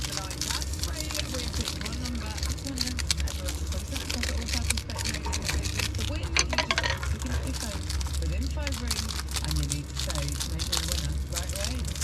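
Crinkling and crunching plastic packaging around a new mattress being torn open, a steady busy rustle that runs throughout with a low hum beneath.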